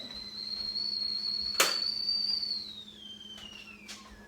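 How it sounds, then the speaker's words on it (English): A steady high-pitched kettle whistle sounds for a few seconds, slowly dropping in pitch and fading, with a brief clatter partway through. "Once your tea kettle whistles at you"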